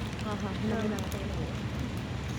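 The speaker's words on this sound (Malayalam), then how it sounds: "നല്ല മഴയൊക്കെ പെയ്യുന്നുണ്ട്." Heavy rain falls steadily outdoors beneath a tower, a dense continuous hiss that runs through the whole stretch under nearby voices talking.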